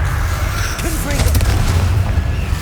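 A Confringo blast spell from Hogwarts Legacy, a loud booming burst with a crackling fiery tail over rumbling low game ambience, a single blast set among other spell effects.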